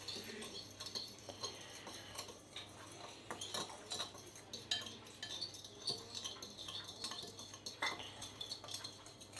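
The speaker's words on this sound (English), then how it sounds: "Give it a good old mix." Chicken nugget ingredients being mixed in a bowl: a utensil scrapes and clinks against the bowl in quick, uneven strokes, close and fairly quiet, with faint background noise and no talking.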